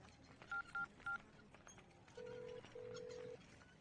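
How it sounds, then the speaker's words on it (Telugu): A phone number is punched in as a quick run of three short keypad tones, followed by two longer, steadier beeps, quiet and close amid faint background noise. "ఒక ఫోన్ చేసుకోవాలన్నా"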